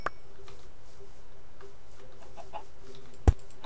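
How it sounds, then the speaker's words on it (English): Chickens cluck in the Minecraft video game, a few soft, scattered clucks over a steady background hum, with one sharp thump near the end. "Killing chickens. Yeah, there's tons of animals here."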